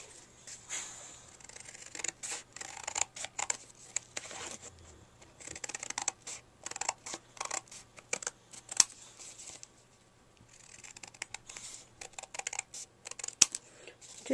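Scissors trimming a card gift tag, crisp snipping and paper rustling in irregular bursts of quick cuts, close and fairly quiet with short pauses between runs.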